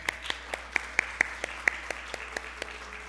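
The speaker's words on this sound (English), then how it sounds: "Let's give them all a round of applause." Church congregation applauding graduates during a Sabbath service: a few scattered, distinct hand claps at a modest level over a quiet room, fairly sparse rather than a full ovation.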